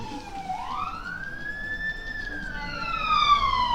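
An ambulance siren in the N64 game Hey You, Pikachu! wails, rising and sweeping steadily, loud and fairly near, over a low background rumble.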